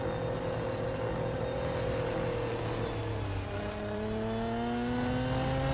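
A race car in the Real Racing 3 video game accelerates hard toward top speed out of the final corner, a loud continuous engine whine climbing in pitch, with one gear change midway and no talk.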